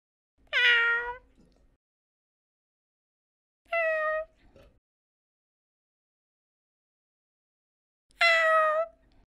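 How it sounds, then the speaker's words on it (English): A cat meows three times, each call clear and close, separated by several seconds of silence. "It's a cat."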